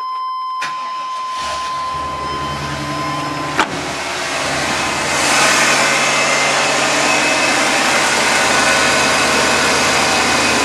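A truck engine cranks and starts, then idles steadily after a short electronic beep and a sharp click, as it runs to bleed air from the coolant system.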